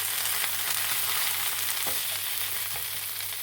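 Potatoes fry in oil for a Spanish omelette, a steady bright sizzle with occasional soft stirring scrapes, heard close and alone at moderate volume.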